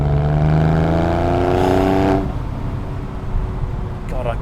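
A Porsche 911 engine pulls hard to around 5,000 RPM, its rising tone loud and close before easing off into a lower rumble of road noise.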